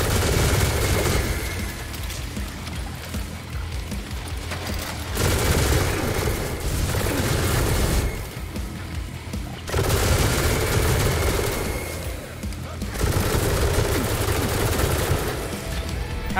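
Rapid automatic gunfire from Atomic Heart rattles in long, dense bursts separated by brief pauses, loud and continuous for most of the stretch.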